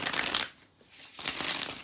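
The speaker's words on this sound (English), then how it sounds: "Let me shuffle" Tarot cards are shuffled in two quick riffling bursts separated by a brief pause, close and crisp, with no talk.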